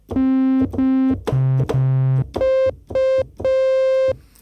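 A series of sustained sine-wave bass tones from a Yamaha DX7 FM synthesizer, each held under a second and shifting pitch step by step, with a hollow, slightly buzzy synth timbre, alone.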